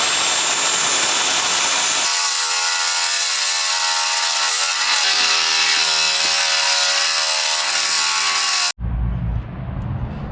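A power drill bores mounting holes for an intercooler on a turbocharged Honda Civic build, a loud continuous whirring and grinding that runs for several seconds before cutting off abruptly into a different noise.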